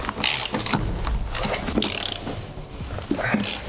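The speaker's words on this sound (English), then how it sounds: "So I bought this kind of a socket set. Using this, let's see if I can get those two bolts off." Hand ratchet and socket set loosening bolts in an empty camper van, giving close, repeated rhythmic clicking strokes in quick bursts across the whole stretch.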